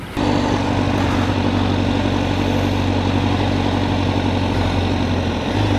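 A Honda CBR1000RR-R SP Fireblade motorcycle engine running, a loud, steady low droning hum with a constant tone, heard close up for several seconds without talk.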